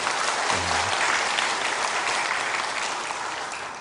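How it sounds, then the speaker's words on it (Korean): A church congregation gives a sustained round of applause, a dense, even wash of many hands clapping together, steady and fairly close, with no talking over it. "박수 한번 해주시기 바랍니다."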